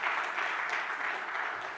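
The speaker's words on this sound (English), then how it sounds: "can you applaud him one more time?" An audience at a post-budget economic forum applauds, a dense, steady clatter of many hands clapping heard from within the hall.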